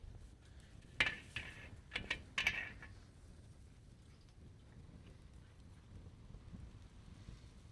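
Gusty wind rumbles steadily against the microphone, with a few sharp metallic clinks near the start.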